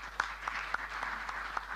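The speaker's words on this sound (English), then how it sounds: "another big round of applause for our leaders panel" Applause from the audience at the opening of an annual general meeting, a thin, moderate patter of scattered claps with a few sharper hand strikes standing out.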